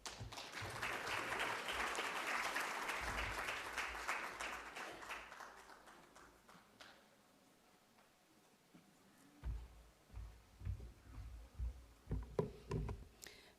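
Audience applause at the relaunch event of a children's Right Start Programme: a dense patter of clapping for about six seconds that fades away, followed by scattered low thumps and handling noises, all fairly faint.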